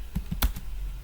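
A few crisp keystrokes on a computer keyboard, close and fairly loud, with one sharper key press in the middle of a short, irregular run.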